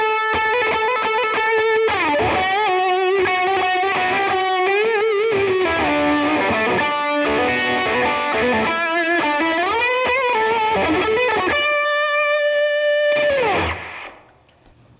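An electric guitar runs through a ProCo Rat distortion pedal for a sustained, thickly overdriven solo. Bent notes and shifting melodic lines ring loud and steady, then cut off near the end.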